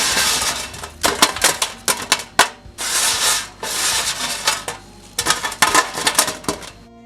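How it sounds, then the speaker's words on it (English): Thin, crispy dehydrated strawberries are pulled off an air fryer tray, making bursts of close, dry scraping, rattling and clinking against the metal, loud and uneven with short pauses between handfuls. "We're just removing strawberries from the tray."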